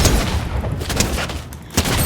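Pump shotgun fire in the Fortnite video game: a few sharp, booming blasts land amid dense, continuous game noise, with no talking.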